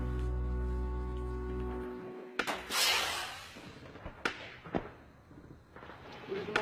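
Gunfire at night during the Wounded Knee standoff: a few sharp, isolated cracks and bangs scattered through the clip, with one louder burst early on, over a dim, rumbling background.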